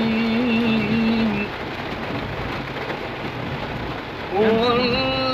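Steady, heavy rain pours down with a constant broadband hiss, while a man's melodic recitation of the Quran rises above it at the start and again near the end.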